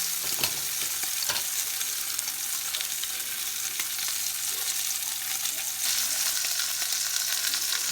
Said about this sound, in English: Okay, the meat is browned on all sides.